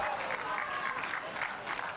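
A crowd at a mixed doubles pickleball match applauds in a brief burst of steady clapping heard from the stands.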